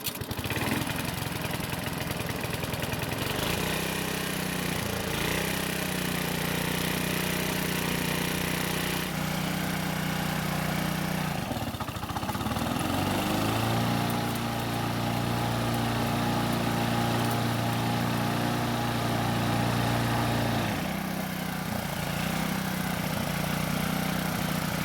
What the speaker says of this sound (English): I'll start the engine again, and this time I'll keep the engine speed high when engaging the blades.